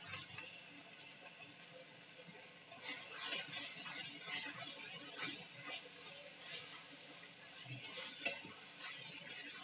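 Curry leaves sizzle in hot oil in a pan for chole masala, a faint, steady crackle with bursts of stirring scrapes and no voices.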